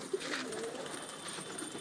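Pigeons cooing softly in a loft in Ujjain, a low gentle coo repeating under faint background hum, no talking.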